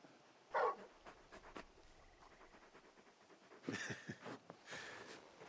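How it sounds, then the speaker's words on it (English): Torgal, the large wolf-like dog companion in Final Fantasy XVI, gives a short burst of panting or snuffling early on, followed by louder rustling bursts and ambient game sounds, with no speech. "You're just a big puppy, aren't you? A very big puppy."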